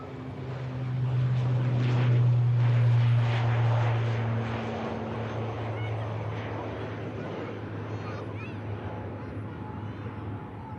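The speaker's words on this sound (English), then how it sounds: "With the Aer Lingus regional for Dublin now lined up. And cleared for departure." Aer Lingus Regional turboprop departing Manchester Airport for Dublin, a loud steady propeller drone with strong low engine tones that swells over the first few seconds, then settles and holds, with no talk over it.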